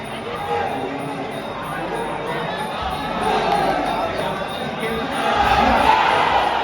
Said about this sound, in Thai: สังเกตเสียงเชียร์ครับ